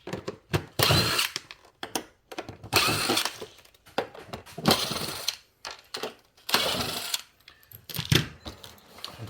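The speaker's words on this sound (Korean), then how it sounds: "보이는 나사들을 다 제거해 주고요" A power screwdriver backs screws out of a Samsung round air conditioner during disassembly, running in short repeated bursts with brief pauses between them, loud and close, no talking.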